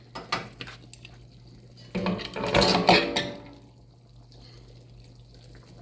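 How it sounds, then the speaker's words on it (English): A spoon clinks and scrapes against a pot of homemade chili as it is stirred, a few soft knocks followed by a louder stretch of metallic scraping and wet sloshing, close by with no talking. "let's check the chili, y'all"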